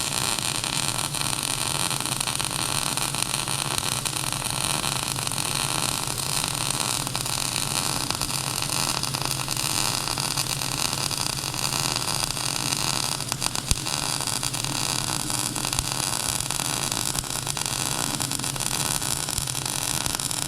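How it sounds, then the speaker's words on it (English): A MIG welder laying a 3-inch bead, a loud, steady crackling hiss that runs unbroken and close for the whole stretch, with one brief glitch partway through and no voices. "Kind of take note of how long it takes me to make a 3-inch weld."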